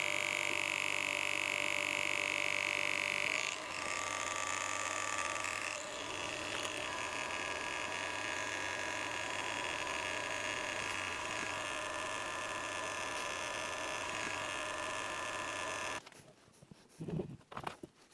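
Mecpow X4 Pro 22W laser engraver running a cutting job: a steady electronic hum and whine with layered tones, continuous for about fifteen seconds before it stops and gives way to brief handling noise.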